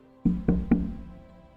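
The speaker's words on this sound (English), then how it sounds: "I'm going to knock on the door." Three sharp knocks on a door, close and evenly spaced, with a short fading ring after each and no voices.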